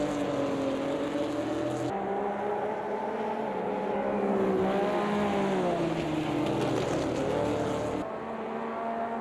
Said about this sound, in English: As some of the faster Corvettes are coming on through now.